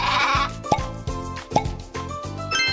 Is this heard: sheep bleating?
yes